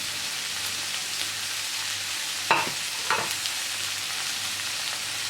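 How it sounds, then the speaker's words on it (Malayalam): Sliced onions sautéing in oil, stirred with a spoon as they cook, with a steady soft sizzle throughout and two brief clinks of the spoon against the pan midway. "സവാള ചേർത്തതിന് ശേഷം സ്പൂൺ കൊണ്ട് നന്നായിട്ട് വഴറ്റി കൊടുക്കണം."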